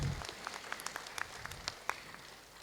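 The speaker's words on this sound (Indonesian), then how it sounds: "Berikan tepuk tangan." Faint, scattered handclaps ring out at a graduation ceremony for welfare recipients in Cianjur, Indonesia: a thin, uneven patter of individual claps rather than a full ovation.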